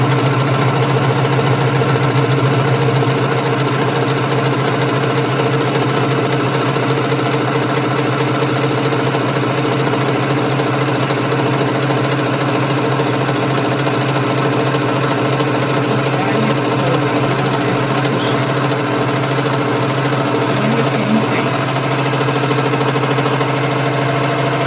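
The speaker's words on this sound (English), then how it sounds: "let's start sewing" A Brother 1034DX serger sewing a rolled hem runs at a slow, steady pace, giving a loud, continuous mechanical hum and rapid stitching rattle throughout with no pauses.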